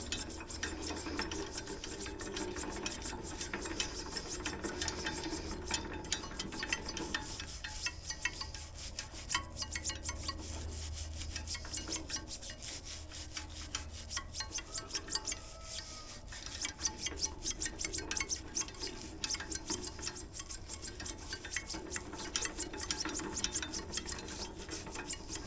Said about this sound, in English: let me finish scrubbing and then we're going to hose it off